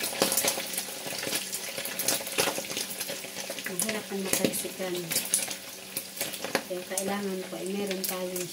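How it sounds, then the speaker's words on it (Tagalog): Pork sizzles steadily in a hot pan with chili, with scraping stirs and clinks of utensils as people talk nearby. "Prito na po natin ang ating karneng baboy."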